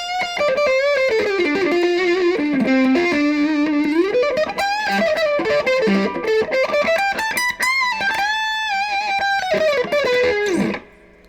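Electric guitar played through distortion on a P90-style neck pickup, a fat, saturated tone with sustained notes and bending melodic lines, loud and alone, ending in a fading final note.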